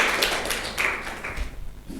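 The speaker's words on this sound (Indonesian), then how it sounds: "Beri tepuk tangan untuk kelompok 3" Classroom applause for a student group in a microteaching session: scattered hand claps and taps, fairly close, that are busiest at the start and then thin out and fade over about two seconds.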